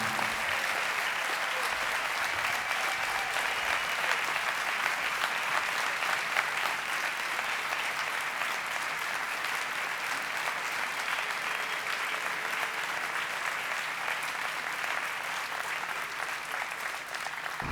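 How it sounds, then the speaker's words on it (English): Sustained applause at an honouring ceremony for Dr. Mark Ottenweller, a dense, even roar of many hands clapping from a large audience that continues steadily without a break. "Can we give Dr. Mark Ottenweller another round of applause?"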